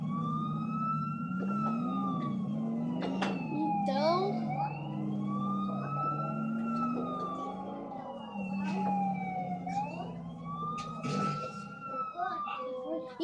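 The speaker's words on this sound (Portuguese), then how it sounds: "Apareceu o nosso carro da polícia." A police car siren in the video game GTA 4 wails in rising and falling sweeps over a low engine drone, loud and continuous, with someone briefly speaking over it.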